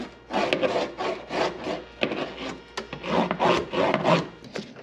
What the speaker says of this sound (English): And then the magic happens right here when you use the roller.